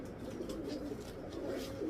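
Pigeon cooing softly and steadily through the whole stretch, a low murmuring coo from a bird held close, with no talking.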